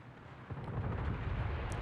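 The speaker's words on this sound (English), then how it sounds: "Another salvo." Naval gun salvo in World of Warships, a deep rumbling boom that swells and rolls on as low sustained thunder, loud and without talk.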